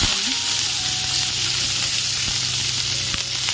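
Onions hit hot oil already holding bay leaf, dry red chillies, clove and cinnamon, giving a steady close sizzle and frying hiss with a faint stir, no talk.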